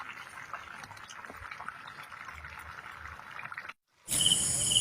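Fish curry with tamarind simmers in a pot in a village kitchen, a soft continuous bubbling under faint insect chirps, breaking off briefly near the end before a louder, harsher hiss cuts in.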